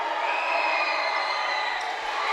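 Steady roar of a high school basketball crowd at a Redondo vs Leuzinger game, a dense wash of cheering and whooping that holds at an even level throughout with no distinct pauses.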